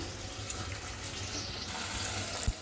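Water running from a tap in a home kitchen, a steady soft splashing stream with a couple of small clinks, quiet and close, no talking.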